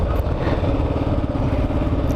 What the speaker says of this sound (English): this KLR does pretty good for a single-cylinder carbureted engine